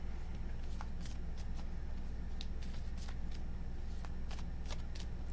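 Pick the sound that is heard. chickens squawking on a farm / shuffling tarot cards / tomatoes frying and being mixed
shuffling tarot cards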